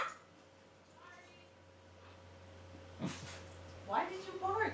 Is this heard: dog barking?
yes